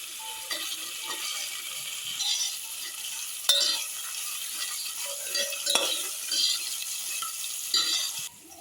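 Onion sizzles in a pan of hot oil with whole spices and ginger-garlic paste for a mutton curry, a steady close frying hiss broken by a few sharp utensil clinks and light stirring scrapes.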